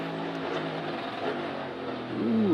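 A NASCAR Cup Series race car roars through the corners at Sonoma Raceway during the Toyota / Save Mart 350, its engine droning steadily before the pitch climbs sharply as the driver opens the throttle near the end.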